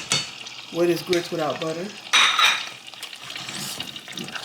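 Grits being stirred in a pot with butter, with soft scraping and clinks of a utensil against the pot under a man's brief speech, then a louder burst of bubbling and scraping.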